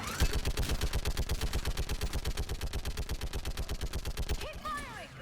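Rapid automatic gunfire in Mass Effect 3, a long steady stream of evenly spaced loud shots lasting several seconds, then stopping as a brief voice comes in.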